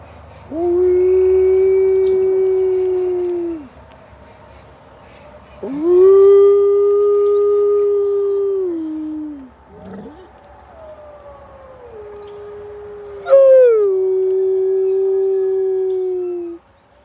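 A dog howls in long, wavering, drawn-out notes, three separate howls with brief pauses and a short whimper between them, close and loud.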